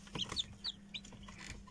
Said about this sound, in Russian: Начинают клевать потихонечку.